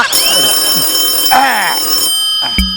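A telephone rings with warbling, bell-like tones, loud and close, followed by a short burst of other noise.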